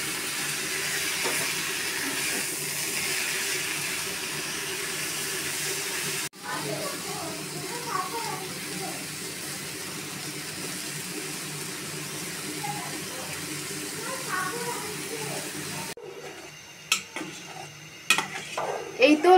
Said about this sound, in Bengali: এই তো এখন শাকগুলো তেলানি করে নেওয়া হচ্ছে।